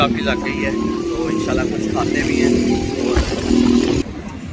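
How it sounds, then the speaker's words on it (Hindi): Quad bikes run on a beach at Karachi's Sea View, their engines buzzing and droning loudly beneath someone talking close up, with surrounding crowd noise. "शोर सॉरी बहुत ज़्यादा शोर है। ये चल रहे हैं यहाँ पे क्वाड बाइक टाइप से"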